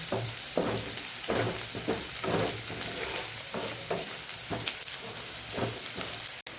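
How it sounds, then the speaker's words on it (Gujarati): Onions sauté in oil in a pan for a Kathiyawadi mixed vegetable dish, a steady close sizzle with the rhythmic scrape and clatter of stirring repeating every second or so, no voices. "ડુંગળી ગુલાબી રંગની થાય ત્યાં સુધી આપણે એને સાતડવાની છે"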